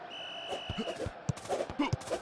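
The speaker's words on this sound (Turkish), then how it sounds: "Bomba patladı." A bomb goes off in the Kafa Topu 2 head-soccer mobile game, heard as a few sharp, punchy bursts at moderate loudness over a steady electronic tone and light game noise.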